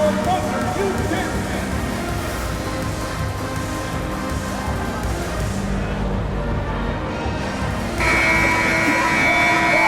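An arena timeout buzzer from an NBA 2K24 basketball game blares in as a loud, steady tone near the end, over continuous crowd and game noise.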